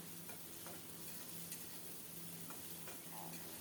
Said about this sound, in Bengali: এই তেলে চার পাঁচটা মাঝারি সাইজের পেঁয়াজ কুচিয়ে নিয়েছি ওটা লাল লাল করে ভেজে নেব